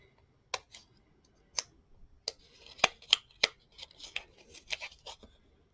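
Sharp, irregular snips of scissors cutting, a dozen or so quick crisp clicks against a quiet background.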